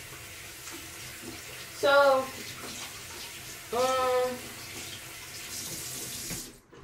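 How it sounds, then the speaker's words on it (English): Water runs steadily from a bathroom tap as hands are rinsed beneath it, a continuous close splashing rush. Two short sung or voiced phrases rise over it, with one brief spoken word near the end. "I'm rinsing my hands off"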